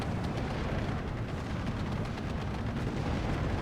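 Artillery fire in Steel Division II strikes an open-top tank, a continuous dense rumble of blasts and crackling impacts, steady and loud with no voices over it.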